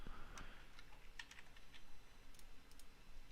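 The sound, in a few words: typing on a computer keyboard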